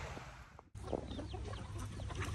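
A prairie bluebell hen and other chickens on a farm cluck in short, close calls, with a brief drop to near silence before the clucking resumes over a low outdoor hum.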